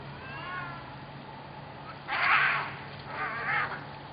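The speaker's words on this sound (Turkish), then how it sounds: "Dakikalarca birbirlerine saldıran iki kedi bazen de birbirlerinin üzerine uçarak yerde boğuştular." Two street cats fighting, yowling and screeching at each other in a couple of loud, drawn-out bursts, close by, with quieter growling between them.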